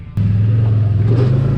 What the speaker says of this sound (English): The more I ride the Zforce 800 50-inch Trail Edition, the more I love this machine.